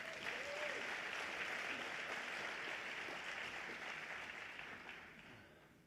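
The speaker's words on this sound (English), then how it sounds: "Let's give them another round of applause." Steady audience applause at the Little Rock State of the City address, a dense rain of clapping that holds evenly and then slowly thins and fades toward the end.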